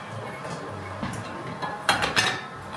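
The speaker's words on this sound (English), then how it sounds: "now we're going to put the cauliflower. Keep stirring it through." Cauliflower added to a pan of cooking vegetables and stirred through, with a soft continuous cooking hiss and a couple of bright utensil clinks against the pan near the end.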